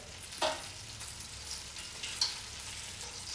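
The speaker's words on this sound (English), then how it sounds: "So the chicken is ready, nicely sealed on both sides." Chicken pieces sealing in a hot pan for coq au vin give a low, steady frying sizzle close by, with a couple of brief sharp spits and stirring clicks.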